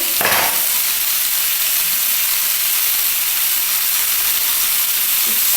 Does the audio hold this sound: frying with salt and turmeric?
yes